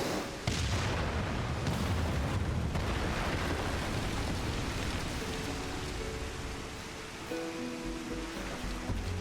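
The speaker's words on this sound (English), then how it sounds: "Oh, they're doing it with explosives?" Heavy rumbling blasts from explosives in the Final Fantasy XIV video game, a sustained roaring wash with deep booms near the start, easing off as soft musical tones come in toward the end.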